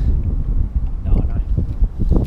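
Outdoor wind while fishing, a steady low rumbling gust buffeting the microphone throughout, with some people talking over it.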